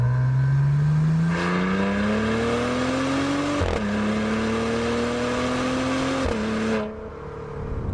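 A Maserati Levante V8 revs hard through the gears, its loud engine note rising steadily and dropping sharply at two quick upshifts before easing off near the end.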